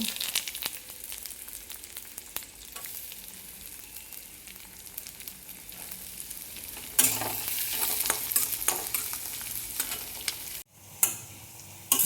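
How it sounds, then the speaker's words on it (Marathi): Onion and curry leaves fry in a pan for a vermicelli upma, with a constant soft sizzle broken by scraping stirs that grow louder midway, then a brief pause and resumption. "कांदा भाजून झालाय"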